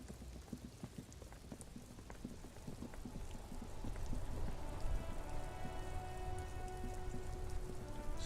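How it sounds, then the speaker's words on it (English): Steady rain in the video game Disco Elysium patters close by, with scattered distinct drops over a soft hiss that grows a little louder partway through. "Stuck in the rain in a traffic jam, man."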